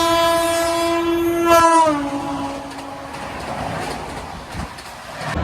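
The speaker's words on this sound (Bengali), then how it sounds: "ইঞ্জিন থেকে ট্রেন ছেড়ে বেরিয়ে চলে গেল" A Kalka Mail train on the Howrah to Kalka route sounds a loud, sustained multi-tone horn, which then cuts off as the train's rumbling and clatter carry on under it.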